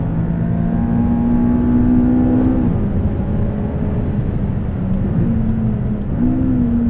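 A McLaren 570S sports car lapping a race track, its engine droning loud and steady from onboard with pitch sagging and rising as it shifts through corners, plus faint tyre and wind noise.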